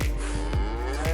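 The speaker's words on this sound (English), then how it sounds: "Hi, cows." Cows moo in a continuous low, drawn-out lowing that stays near and fairly loud. A few soft thumps and rustles sit beneath it, and no one speaks.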